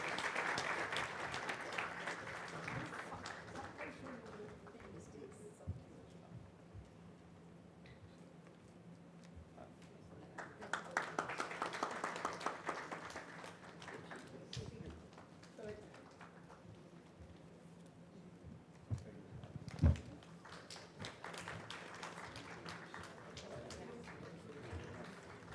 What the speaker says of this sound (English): Keep those claps coming.